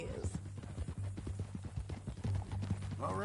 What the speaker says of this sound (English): That a new horse?